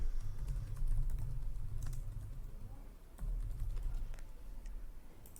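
Steady, close keyboard typing runs nearly throughout while someone fills in a new-class form in a web app, a dense patter of keystrokes over a constant low background hum with a brief lull midway.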